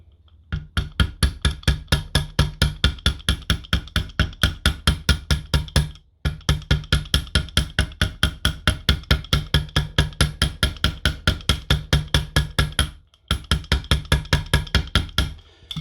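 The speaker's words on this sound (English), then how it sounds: "I put a bit of fish glue into the fret and lined each bit of fret wire with some" Rapid, even tapping of a small hammer on metal fret wire being set into a guitar fretboard, dozens of crisp strikes in three long runs separated by brief pauses.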